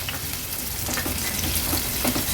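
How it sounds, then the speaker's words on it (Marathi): Finely chopped medium onion hits a pan of sautéed garlic and fries in a steady, dense sizzle with faint scraping stirs, close and without talk. "लसूण परतून झाला का मीडियम साईजचा कांदा जो बारीक चिरून घेतलेला तो ऍड करूया।"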